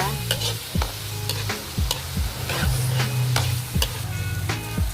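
Stirring and sautéing in a frying pan while making chicken carbonara: scraping utensil strokes with a soft steady sizzle underneath, close and fairly loud, with no talking.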